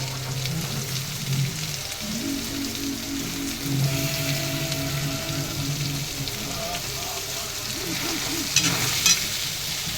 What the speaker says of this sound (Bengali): মাংসটাকে ভালো করে একটু কষিয়ে নেবো তারপরে বিরিয়ানির ভিতরে দেবো